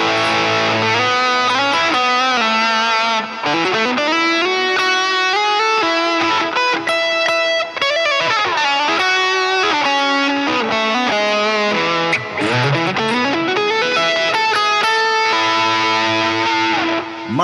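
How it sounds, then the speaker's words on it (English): Electric guitar through a Line 6 Helix with the delay and reverb mix turned down, a continuous played passage of sliding, sustained distorted notes, loud and upfront, with no voices. "I can route audio through some of these bypass blocks so that I can effectively turn down the mix of the delay and reverb"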